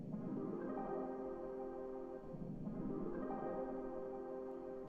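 A chopped, pitched-up sample from a music loop repeats as a soft, lush sustained chord phrase, cycling roughly every two and a half seconds. It sounds quiet and steady, with no voices.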